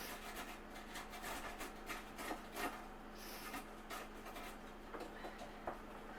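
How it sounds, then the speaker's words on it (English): Raw cauliflower rubbed against a box grater: soft, continuous rasping strokes in an irregular rhythm, close but quiet, with no talking. "you're going to get like a box grater. And you're going to start to grate it like this."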